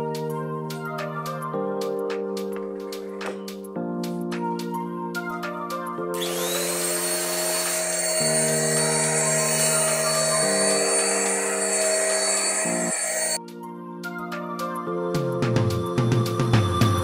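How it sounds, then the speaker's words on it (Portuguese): A household vacuum cleaner runs continuously while cleaning a sofa, its steady motor whine and rushing suction rising into a louder, harsher roar partway through, then easing back, with a tonal hum throughout. "Peguei o aspirador de pó aqui e vou começar aspirando o sofá."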